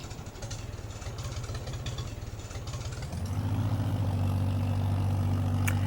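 A tractor engine in Farming Simulator 22, on the 1950 Gnadenthal map, chugs at a rapid steady idle, then revs up about halfway through into a louder, smoother drone that holds to the end.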